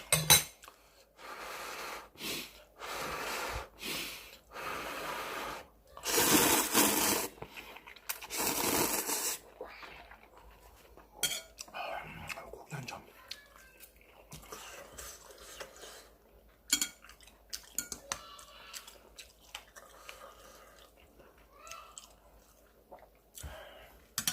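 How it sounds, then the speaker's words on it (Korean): Someone eats spicy ramen noodles with meat, giving several loud close slurps of noodles in the first half, then softer chewing, breathing and occasional scrapes of utensils on a bowl. "면치기?"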